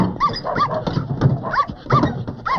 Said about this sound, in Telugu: బొచ్చు కుక్క ఒకటి ఉంది, ఉండని చెప్తా.